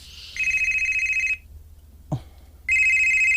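A telephone rings with an electronic trilling tone, two bursts separated by a short pause, with a brief knock in the gap between them.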